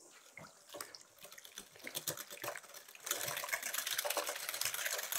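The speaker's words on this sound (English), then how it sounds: "then we just give it a good whisk up" A whisk stirs Alabama white sauce with horseradish and lemon juice in a bowl. Scattered light taps come first, then a fast, dense, continuous scraping swish fills the second half.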